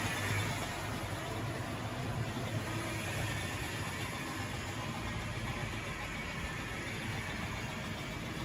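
A Tri-ang Hornby R.259NS Britannia model locomotive runs along its track toward a long station, giving a steady, dense motor whir and rolling rumble that holds even throughout.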